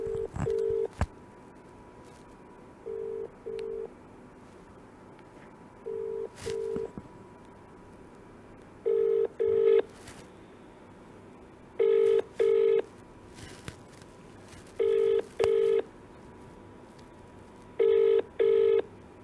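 A telephone call to Ariyana, with short beeps followed by a repeating double ringback tone in even pairs at a steady rhythm, heard clearly over faint background noise.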